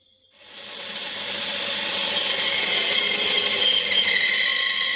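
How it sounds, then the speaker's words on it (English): A bandsaw cuts through a block of timber for a wooden hand puppet head, the sped-up blade rising from quiet into a loud, steady rasping whine that holds continuously to the end. "Obviously I don't go mad pushing the thing through the bandsaw."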